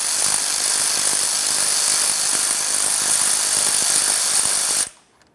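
An air ratchet or power tool runs continuously, loud and close, while the last starter bolt comes off a 2001-2005 Ford Explorer Sport Trac, then cuts off abruptly near the end.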